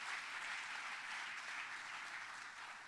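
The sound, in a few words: applause in church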